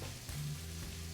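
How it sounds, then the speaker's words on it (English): Mushrooms frying in a hot pan for a frittata, a faint, steady low sizzle with a soft hum underneath, brief and quiet. "I'm gonna go ahead and add the mushrooms in early."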